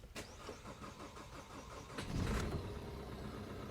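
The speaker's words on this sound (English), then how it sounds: "Start the engine," A Peugeot 3008 diesel with an injector short-circuit fault cranks and catches, a brief starter whirr rising into a steady running engine at close range, with no talking.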